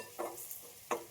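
Green chillies frying in hot oil over a low flame, stirred in a pan while cooking a red radish bhaji, with two short scraping stir strokes over a faint steady sizzle.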